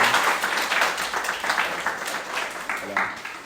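Scattered applause from a church congregation welcoming first-time visitors, moderate and uneven, with a voice speaking over the clapping.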